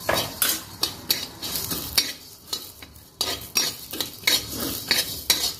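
Coriander seeds and garlic are dry-roasted and stirred in a hot kadhai, with repeated rhythmic scraping and clinking of a metal spoon against the pan over a faint background sizzle.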